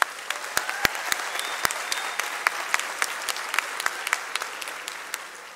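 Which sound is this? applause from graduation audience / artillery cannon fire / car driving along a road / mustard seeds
applause from graduation audience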